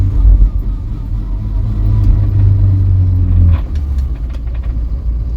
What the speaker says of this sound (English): Why is it making that grinding noise when the clutch is pressed all the way in?